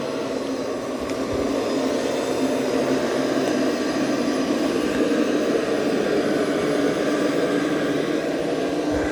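An ECOVACS DEEBOT T20 Omni robot vacuum runs steadily, giving a continuous loud whirring motor and suction hum throughout with no pauses.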